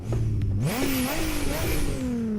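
A loud car engine in a driving video game with an H-pattern manual gearbox, revving hard and climbing in pitch through shifts, steady and close with no talk.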